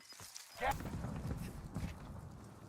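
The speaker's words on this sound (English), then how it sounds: "You heard his footsteps." Quick, muffled footsteps of a player character in the Warzone shooter pad across the ground at a steady pace beneath continuous close voice chat, with game ambience underneath.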